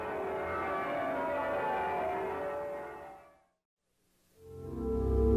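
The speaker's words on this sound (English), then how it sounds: "When the stays are removed and the bells are allowed to sing, their glorious peal seems to announce a new hope." Bells of a Gothic cathedral ringing a peal, a full, sustained wash of overlapping tones that fades to silence briefly before ringing out again, moderately distant and resonant.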